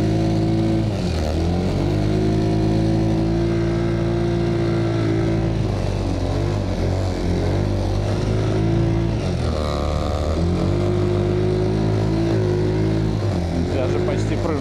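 An Ataki WD 150 snowmobile drives through a quarry, its small engine holding a steady, loud droning hum with slight pitch swells and dips as it pushes ahead, close to the listener throughout.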